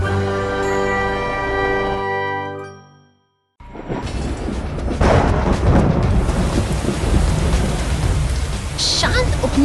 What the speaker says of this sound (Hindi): शांत उपनगरीय गलियों में बारिश की फुहारें गिर रही है